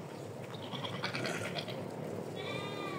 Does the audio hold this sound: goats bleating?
yes